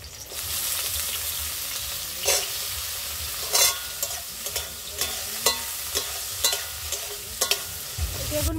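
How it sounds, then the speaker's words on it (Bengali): Brinjal pieces fry in mustard oil in a kadai with a steady sizzle. Sharp clinks and scrapes from stirring are spaced through it, close and clear. "এবার বেগুনগুলো ভেজে নেব"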